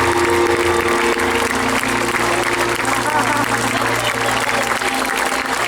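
A concert crowd at Beersheba park applauds a band member, a dense, sustained wash of clapping and cheering that carries on steadily throughout, with a voice speaking over it.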